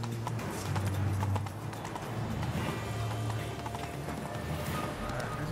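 Hooves of a horse in The Witcher 3: Wild Hunt clip-clop in a steady galloping rhythm, close and fairly loud, layered over game ambience and background sound throughout.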